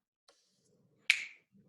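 One sharp finger snap cracks out clearly in a quiet room during a partner connection exercise, preceded by a faint tick and followed by a brief decay.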